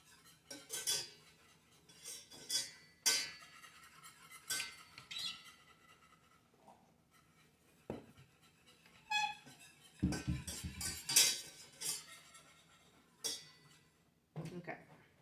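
A whisk scrapes and clinks against a pan as a flour paste for cheese sauce is stirred, quiet intermittent metallic bursts with pauses between.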